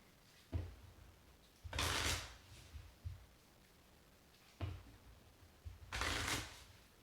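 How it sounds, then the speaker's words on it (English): Two bursts of a small discard pile of game cards being shuffled back into a deck, each a brief riffling rush with soft thuds of handling around it, quiet and close with no talk. "Shuffle the encounter discard pile"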